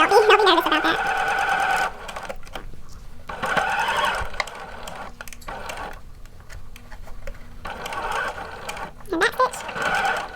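A sewing machine runs in bursts while stitching shorts with a back stitch, its rapid mechanical chatter loud and close, stopping and restarting several times with quiet pauses between runs.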